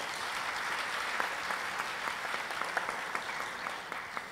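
A seated audience applauds at a community storytelling event, a steady dense clapping that holds at an even level throughout, fairly distant, with no speech over it.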